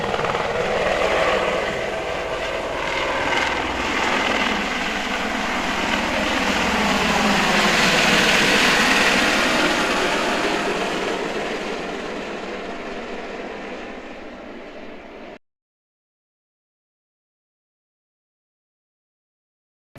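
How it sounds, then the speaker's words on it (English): A helicopter flies overhead at Queenstown Airport, a loud, broad rotor roar that swells as it passes close above, then fades before cutting off, heard alone. "before this helicopter goes over the top of us"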